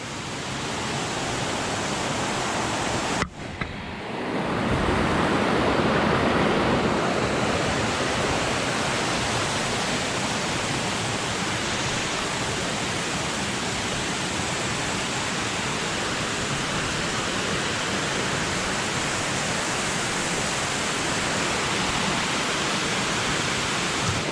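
A big waterfall, Humogo on Nias island, roars with a loud, dense, unbroken rush of water heard close up at night, with only a momentary dip near the start.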